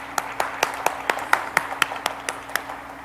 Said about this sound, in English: So I want to give a big round of applause to Bart Erhman.